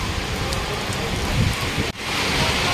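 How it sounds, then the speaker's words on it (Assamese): Steady rain pouring down, a dense continuous hiss filling the whole stretch, with a brief dip near the end before it resumes. "বৰষুণ যাক কিমান ভাল লাগিছে, কি ধুনীয়া বতৰ চাওকচোন"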